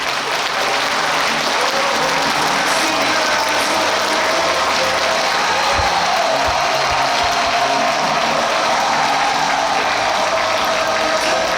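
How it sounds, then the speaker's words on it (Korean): An audience at a book talk applauding loudly and steadily as the guest author comes on stage, a thick, continuous roar of clapping from a large crowd, with no distinct talk. "여러분의 뜨거운 박수와 함께 오늘의 주인공 신성식 저자님을 무대로 모시겠습니다."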